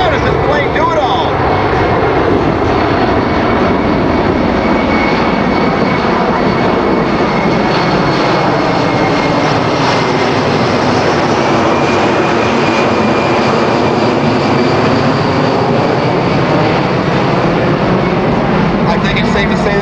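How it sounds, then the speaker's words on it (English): A C-17 military transport jet flies slow demonstration passes at an airshow, a loud continuous roar of jet engines filling the whole stretch while a commentator talks over it. "Now the C-17 will maneuver to show its ability to fly at slow speeds and demonstrate its advanced aerodynamics in action."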